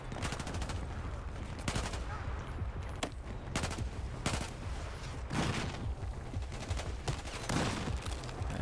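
Battlefield 4 game gunfire during a South China Sea mission, with repeated bursts and single shots cracking out in irregular clusters over a continuous background rumble, fairly loud and close.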